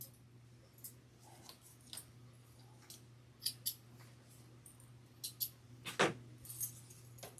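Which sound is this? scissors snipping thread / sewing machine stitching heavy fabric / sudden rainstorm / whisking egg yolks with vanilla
scissors snipping thread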